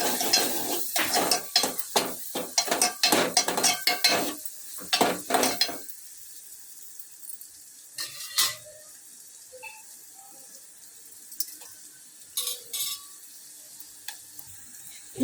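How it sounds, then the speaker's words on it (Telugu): Egg fry with turmeric is stirred in a sizzling pan, a dense run of close spoon scrapes and clinks for several seconds, then quieter sizzling with a few scattered taps and a faint hum. "బాగా కలిపెట్టాలి."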